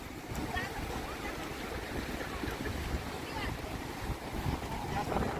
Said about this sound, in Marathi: केवढा मोठा अथांग समुद्र आहे